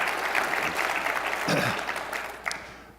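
Steady applause from an audience at a business conference fills the room, a dense wash of clapping that fades slightly toward the end.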